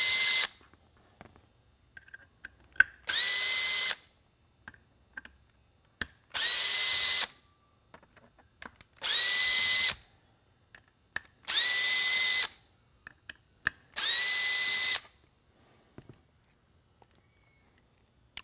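A power drill fitted with a small Torx bit backs screws out of a PAR-46 replacement LED spotlight, running in five separate bursts of about a second each with short pauses and faint handling clicks between them.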